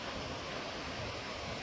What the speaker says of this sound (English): We made it to Paradise Falls, our first of the 22 waterfalls we will hike to. The water is flowing beautifully.